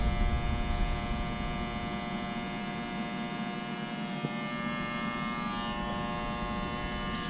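A Yamaha WaveRunner 1.8L SVHO supercharged engine is cranked over without starting to pump oil through, giving a steady, even electric whirring buzz that holds constant for several seconds with no talk.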